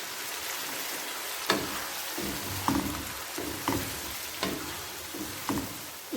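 Chicken biryani masala with ginger and garlic frying over medium heat, a steady loud sizzle broken by regular stirring scrapes roughly every second, with no talking.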